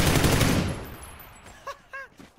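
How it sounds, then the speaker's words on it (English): A burst of automatic gunfire in PUBG rattles loudly at the start, then fades out, leaving a few short faint tonal sounds afterward; no one speaks. "He was shooting someone close north."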